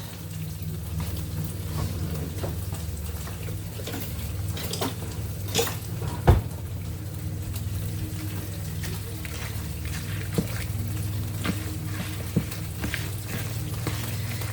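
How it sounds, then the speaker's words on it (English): A spoon stirs food in a pot during meatloaf supper cooking: soft scraping and clinks against the pot over a low steady hum, with one louder knock near the middle, close with no talking. "now just get a spoon to stir that up"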